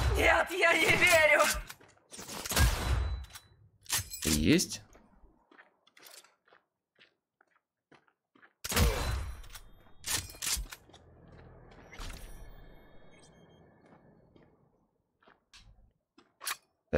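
A sniper rifle being reloaded in Cyberpunk 2077, a drawn-out sequence of mechanical clicks and clacks separated by loud bursts and quieter gaps.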